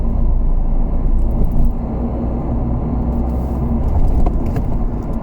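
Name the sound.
car engine while driving on the road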